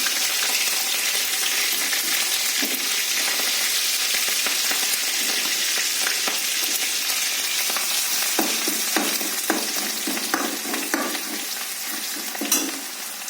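Ginger and garlic fry in a pan with green chillies and curry leaves for a Namakkal-style egg gravy, giving a steady close sizzle with occasional stirring scrapes and light utensil clinks toward the end.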